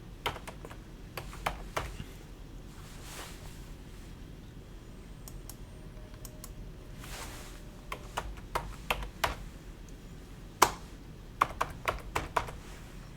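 Keys clack on a computer keyboard in irregular bursts of typing, close and fairly quiet, with sharper isolated taps scattered between them over a low background hum and no talking.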